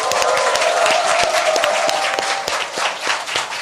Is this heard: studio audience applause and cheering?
yes